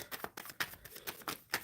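Cards are shuffled close by in a quick run of crisp riffling bursts, soft and rhythmic, with no one talking.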